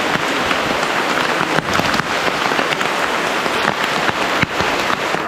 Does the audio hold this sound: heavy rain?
yes